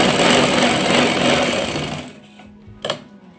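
A sewing machine runs loud and close, stitching the hem of a salwar leg, then winds down after about two seconds. A single short knock follows in the quiet.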